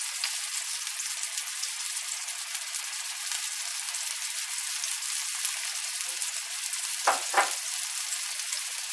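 Stuffed mushrooms frying in a pan, a steady, even sizzle throughout with a couple of brief louder pops near the end and no talking.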